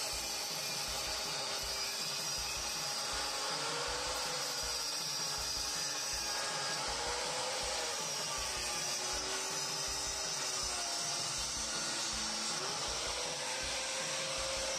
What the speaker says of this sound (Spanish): los podemos cortar con una esmeriladora y un disco de metal simple